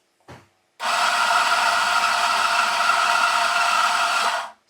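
Electric coffee grinder grinding 5 grams of beans: a short click, then a loud, steady high-pitched whir lasting about four seconds before stopping abruptly.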